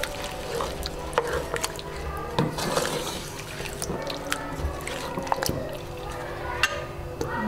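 Chicken karahi being stirred in a pot after fresh cream is added, giving wet squelching and sloshing with clinks of the spoon, close and continuous without talk.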